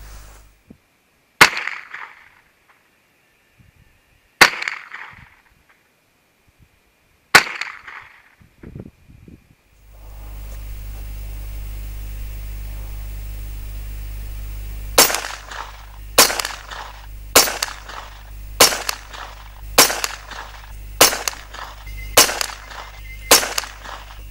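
A Kriss Defiance DMK22C .22 LR semi-auto rifle fires at a range: three spaced sharp cracks, then a steady hum, then a quick string of about nine shots in fairly even rhythm, loud and near.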